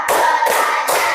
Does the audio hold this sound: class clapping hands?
yes